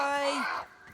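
A single drawn-out crow caw in a video game, loud and close, with a brief wailing tail before it fades.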